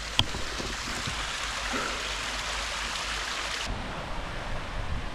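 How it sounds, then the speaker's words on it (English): A waterfall along a Scottish long-distance hiking trail gives a steady, dense rushing roar that fills the whole clip, close and loud, with no talking. "Waterfall here."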